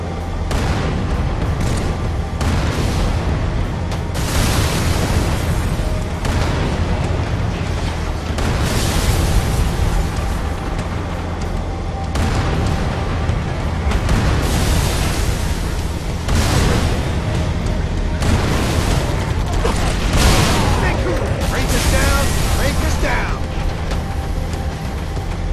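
Tank cannon fire and explosions in the video game Halo 3 campaign, a dense run of heavy booms and blasts repeating every few seconds over constant loud battle noise for the whole stretch.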